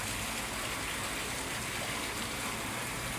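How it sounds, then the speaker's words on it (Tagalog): Water rushing fast under strong pressure while containers are being filled, a dense, loud, continuous gushing roar with no pauses. "Bilis ang takbo ng tubig."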